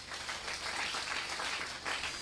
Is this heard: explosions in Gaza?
no